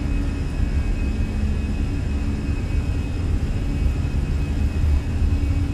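Airliner jet engines at takeoff power in Microsoft Flight Simulator, a steady, loud, broadband roar with a low rumble and a faint high whine, unbroken and close, with no talking.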